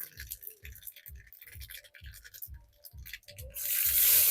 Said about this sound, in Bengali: তেলের উপর আমি ফোড়নে দিয়ে দিচ্ছি সর্ষে আর একটা পেঁয়াজ কুচি